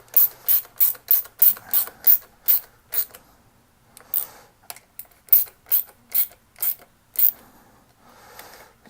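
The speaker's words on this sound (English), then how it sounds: "Now we'll take our 8mm. Just tighten it till it stops." A hand ratchet with an 8mm socket tightens a bolt on a motorcycle swingarm, giving a steady series of crisp, close clicking bursts that pause briefly and then resume.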